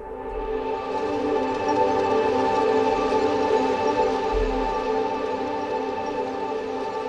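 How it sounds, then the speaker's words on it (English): Evolving Arturia Emulator synth drone patch running in Komplete Kontrol, a sustained layered tone with stacked steady harmonics and a slowly shifting texture, holding at an even, fairly loud level throughout with no voices. "it's sort of a droney sound, but it evolves,"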